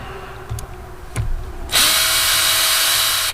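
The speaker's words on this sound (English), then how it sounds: "I can get them out a lot quicker if I just use my cordless drill" Cordless drill backing screws out of the steering wheel of a 1948 Willys Jeep: a couple of short clicks and bumps, then a loud, steady high-pitched motor whine running close-up to the end.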